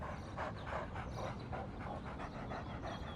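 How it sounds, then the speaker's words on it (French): Cartoon dog Pierre from a French-dubbed animated children's show barks in a quick run of short, bright yips, about eight evenly spaced bursts, close and moderately loud over a steady background bed, with no talking. "Quel chien aboie comme Pierre?"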